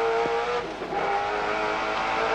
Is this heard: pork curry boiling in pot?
no